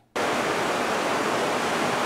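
Beach surf rushes in with a sudden onset, a broad, loud hiss of crashing ocean waves that holds steady and close with no voices.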